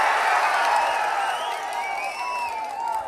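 A large outdoor political rally crowd in Vedaranyam, Nagapattinam district, keeps up a steady wash of cheering, clapping and shrill whistles that stays loud and continuous throughout.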